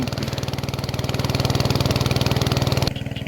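A vehicle engine runs close by during a ride, giving a steady rapid chugging pulse at a fairly loud, even level, with a slight change near the end; no speech.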